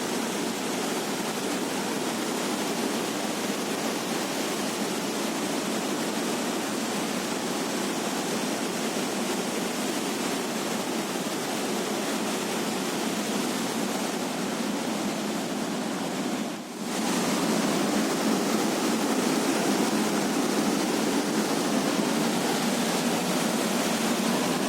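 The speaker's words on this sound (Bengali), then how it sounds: "আপনারা জলের আওয়াজটা পর্যন্ত শুনতে পাবেন" Water roars steadily out through the open gates of Chandil Dam in Jharkhand, a loud, continuous broadband rush that holds unbroken for the whole stretch, with only a momentary dip partway through.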